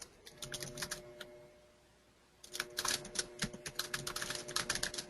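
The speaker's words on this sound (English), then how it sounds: "Who's typing there?" Rapid keyboard typing in bursts, a short run of clicks, a pause, then a dense, louder flurry of keystrokes over a faint steady hum, with no talking.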